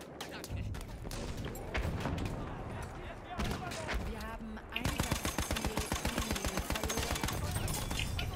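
Heavy machine gun fire during a battle for Amiens in a war game: a rapid, even stream of loud, punchy shots in a steady rhythm, following earlier scattered gunfire and blasts, with voices talking over it.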